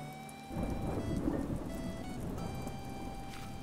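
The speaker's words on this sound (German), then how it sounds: "Kann mich der Blitz treffen?" Rain and thunder in the video game Animal Crossing: New Horizons: steady rain hisses, and a deep rumble of thunder swells in and rolls on beneath a soft, tonal game music bed, with no talking.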